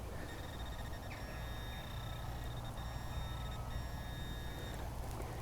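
A metal detector sounding off over a large lump of lead lying right at the surface, giving loud electronic beep tones that stop and start against a steady bed of wind-like outdoor noise.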